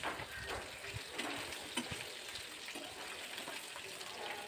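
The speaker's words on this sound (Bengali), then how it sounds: "এভাবে সব কটা মাছ আমি ভেজে নেব" Egg-filled hilsa fish frying in mustard oil, a faint steady sizzle and crackle with occasional soft pops, heard alone and close.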